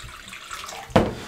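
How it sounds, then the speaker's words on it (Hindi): Water from a tap splashes into a bowl while preparing egg kofta, a soft running trickle then a sudden louder gush near the end, close and alone. "इसके अंदर पानी शामिल करेंगे"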